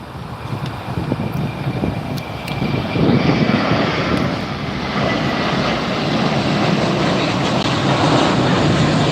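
Fixed-wing airliner at Los Angeles International Airport, a steady loud jet engine roar building and holding throughout, with wind buffeting the microphone outdoors.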